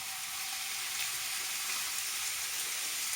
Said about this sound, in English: So now we're going to add our chopped tomatoes.